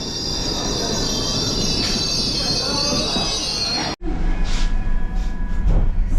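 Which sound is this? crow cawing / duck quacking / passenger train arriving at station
passenger train arriving at station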